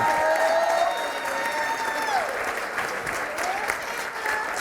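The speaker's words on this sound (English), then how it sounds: "Let's give our panel a round of applause." An audience applauds a panel at a Black History Month celebration of joy, arts and community, steady broadband clapping holding for several seconds with faint background voices.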